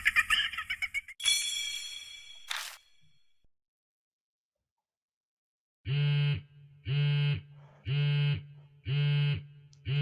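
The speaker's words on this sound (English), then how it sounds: "It sounds like a cell phone vibrates nearby" A cell phone buzzes nearby in the video game Spirit Hunter NG, four evenly spaced vibrating pulses after a stretch of silence, preceded by brief sharp chimes and other tones.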